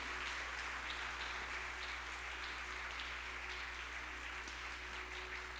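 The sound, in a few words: church congregation applauding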